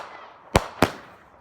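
Two sharp firework explosions crack about a quarter second apart, loud and close, each a sudden bang followed by a short fading tail.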